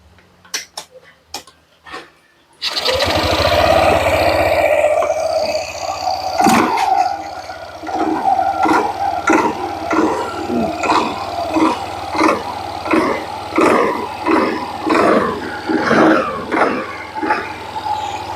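A Yamaha NMAX 155 scooter engine starts after a few quiet clicks and then runs with a close, rough, pulsing idle, with rhythmic surges and rattly vibration.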